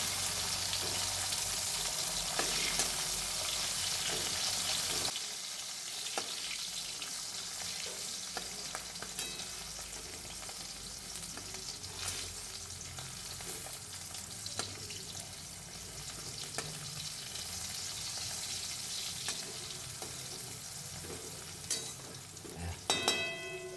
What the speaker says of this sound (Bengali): কড়াইটা বসিয়ে আমি তেল দিয়ে প্রথমে কাঁকরোলগুলো ভেজে নেব।